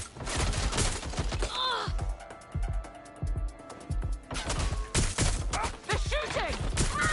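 Enemy gunfire in Watch Dogs Legion, dense loud bursts of shots and impacts rattling throughout, with a brief lull mid-way, while a player yelps and exclaims over the shooting.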